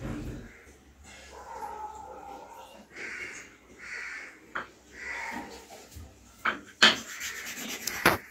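Soft, intermittent rubbing and scraping as a Shiva idol is scrubbed with a little water during a Shivaratri puja at home. The strokes are close and quiet, with a few sharper scrapes near the end.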